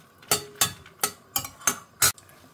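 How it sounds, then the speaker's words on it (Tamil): Red chillies fry in oil in a pan on a home stove, with six sharp, evenly spaced scrapes and clinks of a spatula stirring them against the metal. "ஃபஸ்ட்டு மிளகாயை வறுத்துன்றலாம்."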